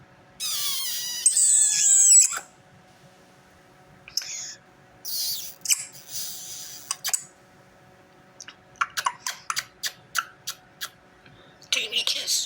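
Shrill, high-pitched kissing noises are aimed at a pet bird, coming in squeaky bursts and then a rapid run of sharp smacking pops, loud and close in a quiet room.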